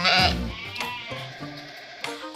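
A young Dorper lamb bleats loudly up close at the start, followed by quieter scattered bleats and handling noises, without talk.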